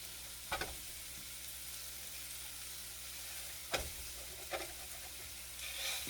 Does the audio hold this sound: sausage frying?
yes